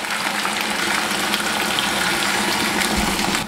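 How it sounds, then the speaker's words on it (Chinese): Beer is splashed around the edge of a hot wok over marinated pork liver, making a steady, loud, close-up sizzle and hiss that lasts the whole moment. "沿着锅边淋入小半瓶啤酒"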